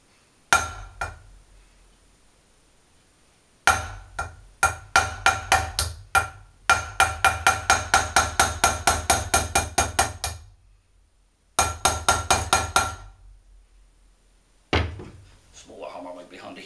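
Hammer blows drive a front wheel bearing into a Honda CB500 wheel, loud metallic strikes in fast bursts of several hits with pauses between groups, close and clear with no talking.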